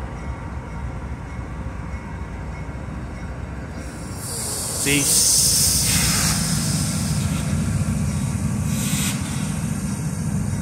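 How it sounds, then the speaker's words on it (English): A loud burst of air hisses out as CSX locomotive brakes release, rising over a rumbling train idle, with short sharp puffs and a brief spoken word. "He knocked the locomotive brakes off."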